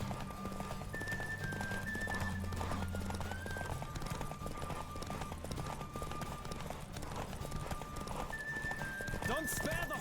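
Steady clip-clop of horse hooves at a gallop with occasional whinnies, over a continuous music and ambience bed in the video game The Witcher 3: Wild Hunt.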